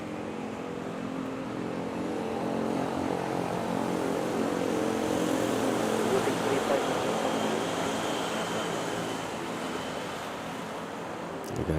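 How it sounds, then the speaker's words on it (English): An Air Asia airliner takes off from runway 31 at Manila airport, a broad steady jet roar that swells gently and then eases, heard from a distance with voices in the background. "And Air Asia taking off at runway 31"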